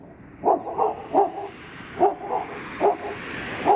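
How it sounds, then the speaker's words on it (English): A neighbor's dog barks in short bursts nearby, about six sharp woofs spaced irregularly with brief pauses, heard alone in a garage during a Yamaha R6 motorcycle rebuild. "If my next door neighbor's dog shut the fuck up, we continue the video."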